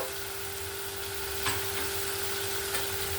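Katla fish curry with cauliflower, potato and green chilies sautés in a pan, giving a steady close frying sizzle with a couple of faint stirring scrapes and no speech.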